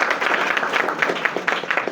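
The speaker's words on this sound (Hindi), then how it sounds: "जोरदार ताली बजाइए" Loud applause from a crowd gathered at an event in Gahmar village, with dense overlapping claps building in bursts across two seconds and no talking over it.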